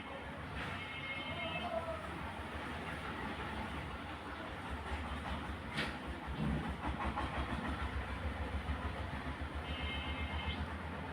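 A sewing machine stitches elastic onto a hijab sleeve, a fast, steady rhythmic whir and clatter that runs continuously at moderate volume close by.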